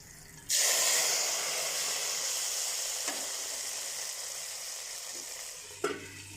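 A sudden loud sizzle as hot spiced oil tempering hits karhi pakora curry, bursting in sharply and then hissing steadily, with a small clatter near the end.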